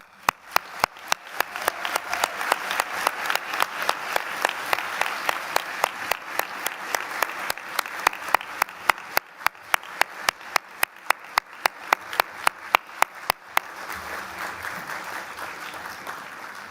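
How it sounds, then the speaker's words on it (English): Sustained audience applause fills a university graduation ceremony hall, a dense wash of many clapping hands that swells, holds steady for most of its length, then thins toward the end, with sharp periodic clicks recurring throughout. "Please give them a huge and rousing round of applause."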